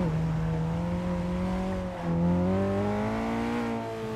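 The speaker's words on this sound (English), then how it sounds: "What's up with all these cars everywhere," Video game car engines hum and whir in a steady drone, pitch sliding up and down as vehicles move by, with no talking.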